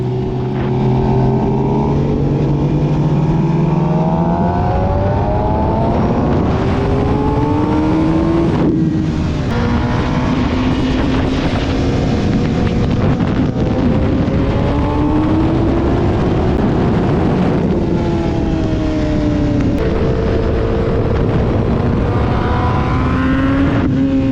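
A race motorcycle roars loudly and continuously on a track at The Ridge Motorsports, its engine note rising through the gears, then falling as the rider eases off the throttle under a yellow flag.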